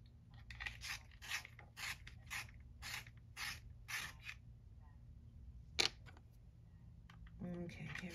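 Colored pencils being sharpened up close: a run of about eight quick, rhythmic grinding bursts, then a sharp click and a brief rougher scrape, over a low background hum.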